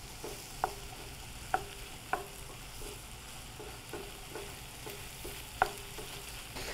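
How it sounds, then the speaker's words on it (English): Diced ham and vegetables sauté in a pan under a soft, steady sizzle, with a spoon scraping and tapping against the pan in irregular knocks; no one speaks. "we're going to continue sauteing this to semi-cook the ham"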